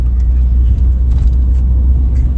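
Road traffic idling and creeping at traffic lights, a loud, steady low rumble of engines close by with faint higher hiss and no clear voices over it.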